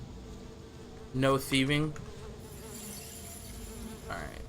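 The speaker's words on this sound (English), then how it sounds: "Lots of bees." Bees swarm with a steady insect drone in the fantasy video game Sudeki, a continuous buzz that runs through the scene while a character voice speaks briefly over it.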